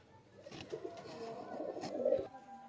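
Domestic pigeons cooing in a home loft, with adult birds near their young; soft, low murmuring coos that swell slightly toward the end, heard close by with faint background noise.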